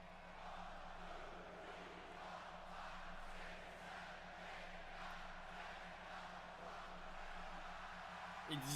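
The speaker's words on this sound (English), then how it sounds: "And you hear the crowd rallying support for Sami." A wrestling arena crowd roars and chants in support of a wrestler during a SmackDown event, a steady distant rumble of voices that stays constant in the background throughout.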